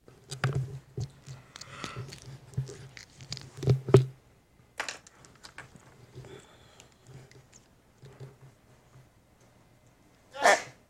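A single sharp sneeze bursts out near the end, following a stretch of quiet, intermittent talking and small background noises in a room.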